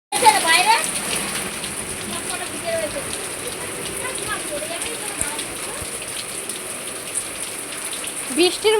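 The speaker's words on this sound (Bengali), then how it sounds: "শিলা বৃষ্টি হচ্ছে, শিল পড়ছে টপ টপ করে।" Hailstones fall with heavy rain in a hailstorm, making a dense, steady patter of drops and hits on surfaces, with occasional faint voices in the background.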